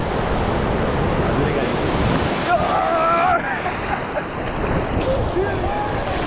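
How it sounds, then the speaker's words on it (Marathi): Big ocean waves surge and break continuously on the beach at Murud, loud and washing, with wind buffeting the microphone and brief faint voices. "अजून एक मोठी लाट आलेली आहे"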